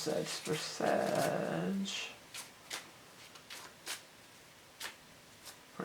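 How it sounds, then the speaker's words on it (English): Speech at the start, then a series of sharp, brief tarot card snaps and riffles spaced irregularly as the deck is shuffled, close to the microphone. "let's go ahead and shuffle up and get your animal totem card"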